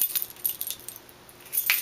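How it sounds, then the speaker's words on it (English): Keys jangle as they are pulled from a purse, a few bright metallic clinks close to the microphone with a short pause between bursts. "my keys."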